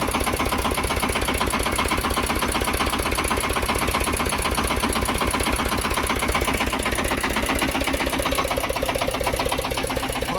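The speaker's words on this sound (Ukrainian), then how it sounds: "Отакий тракторець тестується, має їхати до своїх власників" A Shifeng 350L mini tractor engine runs steadily at idle during testing, its rapid rhythmic chugging constant and close for the whole stretch.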